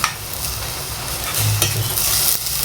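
Rice or other food frying over high heat and being stirred in a pan: a continuous close sizzle with repeated scraping and clinking strokes, no voices.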